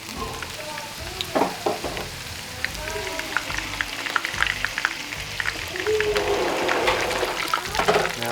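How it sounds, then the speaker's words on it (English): Vegetables cooking down in a pan for a Thai-style fish dinner, a steady close sizzle with bursts of frying crackle and occasional stirring, with brief talk over it. "Cook down some of these vegetables"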